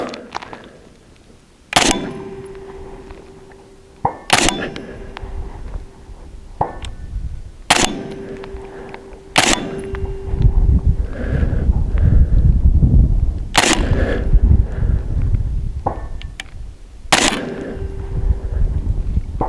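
Six sharp, loud shots from a 16-inch 6.5 Creedmoor rifle at long range, each a sudden crack followed by a ringing tail, spaced a few seconds apart over a rumbling outdoor background.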